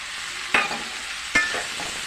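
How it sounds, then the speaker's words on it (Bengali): Cubes of homegrown sweet pumpkin fry in a pan with coriander leaves, giving a soft continuous sizzle broken by two distinct scraping stirs, close by and without talk. "এখন নেড়ে চেড়ে কিছুটা সময় ভেজে নেই। দেখুন কুমড়োটা ভাজা হচ্ছে।"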